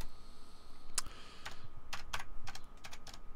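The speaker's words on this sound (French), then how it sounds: "on va le taper directement ici" Typing on a computer keyboard, a run of crisp close key clicks in an irregular rhythm, a few sharper strikes standing out, with no voices.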